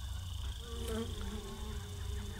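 Bees buzzing in the game Surface - Lautlos: a steady, soft, close insect drone with a wavering pitch, heard alone with no talking.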